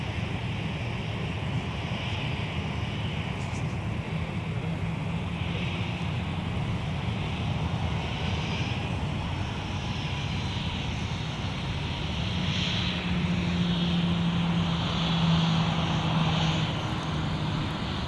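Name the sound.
Eastern Boeing 777 charter landing on runway 12 right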